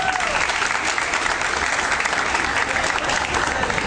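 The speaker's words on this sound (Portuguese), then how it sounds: "Palmas para a Fernanda" An audience at a debate event applauds a student with a strong, continuous burst of clapping, loud and even from start to finish.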